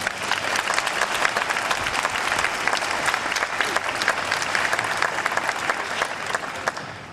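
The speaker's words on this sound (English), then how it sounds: "Please give them a round of applause." Sustained, dense applause from a large commencement audience honoring law school faculty, steady and full throughout before easing off at the very end.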